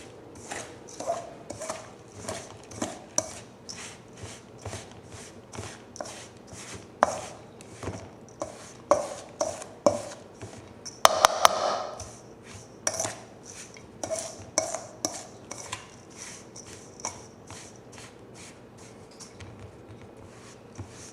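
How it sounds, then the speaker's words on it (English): Utensil stirring a crumbly butter mixture for a Saskatoon berry (juneberry) recipe in a bowl, giving a steady run of close, rhythmic scraping taps with one louder clatter midway, no voices. "just stir it up, and it's going to be kind of crumbly"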